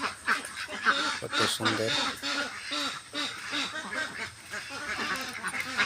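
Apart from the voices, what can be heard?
ducks on water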